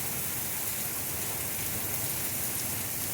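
Heavy rain with pea-sized hail in Texas Hill Country storm weather, a dense, steady hiss of downpour drumming on surfaces, close and continuous with no talk.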